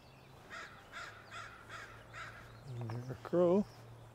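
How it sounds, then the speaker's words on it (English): A crow at a marsh gives a series of about five evenly spaced harsh caws at moderate distance, followed by a person speaking briefly over a steady low hum. "Crow."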